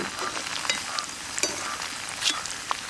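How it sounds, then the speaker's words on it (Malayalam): Young teak leaf shoots fry in hot oil for a burn ointment, giving a steady close sizzle with small crackles and pops scattered throughout, no voices. "നമ്മൾ ഇട്ട തേക്കിൻ്റെ ഇളയ തേക്കിൻ്റെ ഇട തൂമ്പൊക്കെ നന്നായിട്ട് ഫ്രൈ ആയിട്ട് വന്നിട്ടുണ്ട്"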